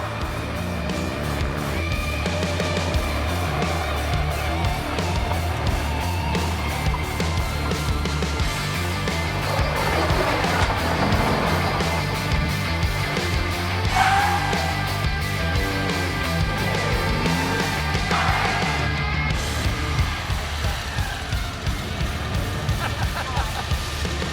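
A down-on-power Maxi car is driven hard over a loose surface during the London-Lisbon 2017 run, its engine droning steadily with continuous gravelly road rush and rattle throughout.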